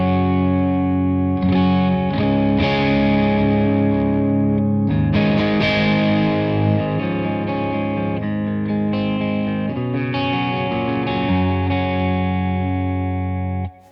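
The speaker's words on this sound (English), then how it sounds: "I'm running the copper 4x12 preset that I made. This is for the kind of pushed clean ambient thing that I like to do." Electric guitar played through a Victory V4 Kraken amp in a pushed clean ambient tone, sustained chords and ringing notes with shimmering effects, loud and continuous, stopping abruptly at the end.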